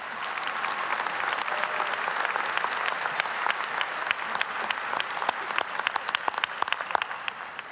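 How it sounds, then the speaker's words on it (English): Sustained audience applause at a university commencement ceremony, a dense wash of many hands clapping steadily from a large crowd, with a few louder claps near the end. "Please join me in applauding the efforts of our Emeriti faculty."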